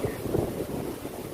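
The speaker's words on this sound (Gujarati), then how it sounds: "મસ્ત પવન છે" Wind blows outdoors during rain, buffeting the microphone in loud, rumbling gusts that stay constant and close, with no voices.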